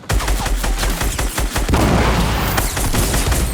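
Gunfire from a first-person shooter video game, recorded while playing with a budget or premium gaming keyboard: rapid bursts of loud close shots crackle one after another for several seconds, with a heavy low boom underneath.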